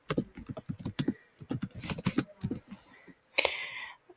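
Fingers typing on a computer keyboard, with irregular bursts of sharp, close key clicks, short pauses between them, and a denser flurry of clicks near the end.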